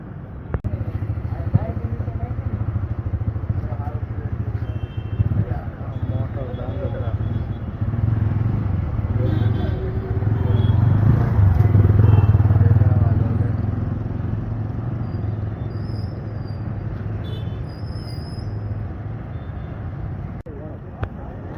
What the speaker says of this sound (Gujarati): ચાલો આપણે લઈને આવતા થઈ ગયા હી ફ્રીડમ બાઇક સીએનજી